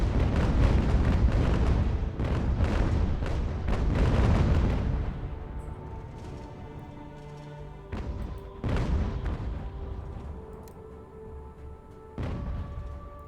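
Heavy ship cannon fire in an Ultimate General: American Revolution naval battle, with dense overlapping booms rolling for several seconds, then thinning into scattered loud blasts with ringing tails over a quieter bed.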